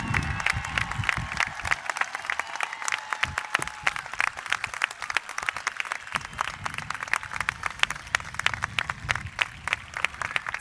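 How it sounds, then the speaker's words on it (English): Applause at a high school graduation ceremony honoring graduates entering military service, with rapid, dense clapping from a large crowd and a faint murmur of voices and cheers underneath, steady throughout. "Round of applause."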